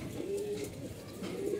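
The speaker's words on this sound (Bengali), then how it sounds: "একদম ছোট সাইজের একটা কবুতর।" A very small domestic racing pigeon coos close by in low, soft, throaty notes, one rolling phrase followed by another, with no talk over it.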